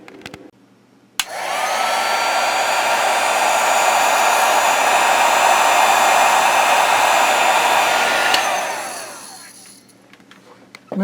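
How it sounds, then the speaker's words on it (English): A heat gun shrinks heat shrink tubing during a tube amplifier restoration, blowing as a loud, close, steady whoosh for about seven seconds after switching on abruptly, then winding down. "and then heat it up with the gun."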